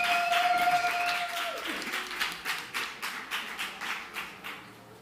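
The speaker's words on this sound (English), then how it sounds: "Big applause for Jesús." Audience clapping at a startup summit stage event, starting after a fading tone and building into a steady, moderately loud rhythm of unison hand claps with even beats.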